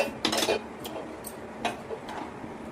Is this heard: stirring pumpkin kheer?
yes